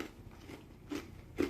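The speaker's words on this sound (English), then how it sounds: "what I like about the bark on this is that it's like super nice and crunchy and crispy" Two crisp crunches of biting into the crunchy, crispy bark of smoked porkstrami, close and fairly quiet, the second bite louder than the first, with no talking.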